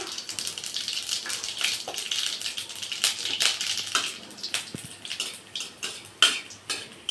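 Whole spices sizzling and crackling in hot oil in a kadai while an Indian mango chutney is being made, with a steady bright hiss broken by sharp pops and a few metallic clinks of a spoon against the pan.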